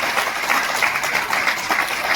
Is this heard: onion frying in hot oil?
no